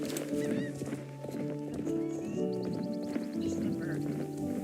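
Horse hooves clip-clop steadily while riding in the video game Star Stable, with occasional neighs over layered game music and ambience.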